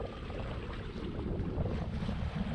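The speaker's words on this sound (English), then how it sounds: "We are finally sailing." A sailboat under way on the open sea en route to Mexico, with a steady rush of wind and wash of waves against the hull, broadband and continuous with wind buffeting the microphone throughout.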